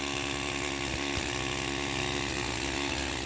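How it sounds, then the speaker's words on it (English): A miniature jackhammer breaks up rock salt with a loud, continuous rapid buzzing hammering that runs steadily and close throughout. "This is like my miniature jackhammer thing, and I wanted to see how good this works."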